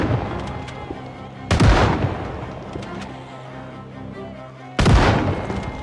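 Two loud, sharp shotgun blasts, about three seconds apart, ring out against zombies in the video game Project Zomboid during an assault on a police headquarters, each one decaying quickly over a low, steady background hum.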